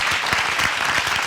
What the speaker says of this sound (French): On va applaudir pour tous ceux qui nous regardent dans le monde.